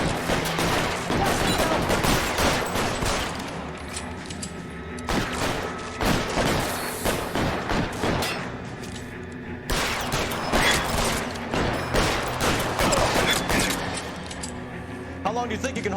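L.A. Noire shootout gameplay: dense, loud volleys of gunfire with rapid repeated shots and mechanical clatter, continuous and close throughout, with voices talking over the action.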